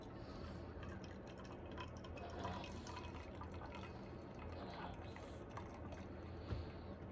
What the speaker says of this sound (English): we're just gonna pour our water right over the top of this